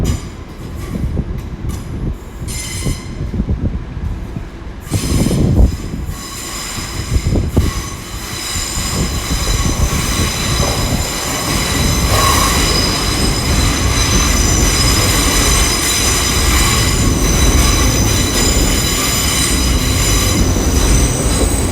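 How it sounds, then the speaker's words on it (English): An IET train pulls into London Paddington on the Great Western Main Line, its loud rolling rumble and wheel squeal building and holding steady under the station roof, with rail clatter early on and no voices. "Got a IET coming in as we have the 2387s going out to Didcot Parkway."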